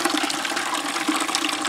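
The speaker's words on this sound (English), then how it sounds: "turn this on, and put water in it." Water runs from a tap into a 5 gallon plastic bucket for a chicken self-watering system, a steady close rushing and splashing with no pauses.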